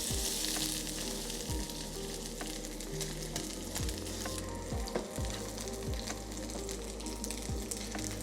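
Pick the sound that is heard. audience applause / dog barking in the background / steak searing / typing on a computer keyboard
steak searing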